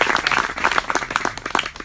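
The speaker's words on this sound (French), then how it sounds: "Clap for our brother for this sermon." A church congregation applauds after a sermon, a loud, dense burst of clapping that runs steadily for about two seconds with faint voices underneath.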